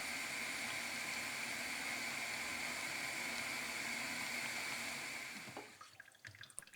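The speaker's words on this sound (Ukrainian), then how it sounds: "Знову заливаємо гриби водою." Water poured over false morel mushrooms in a pot before their second boil: a steady, close rushing pour lasting about five seconds, then stopping abruptly into faint splashes and clinks.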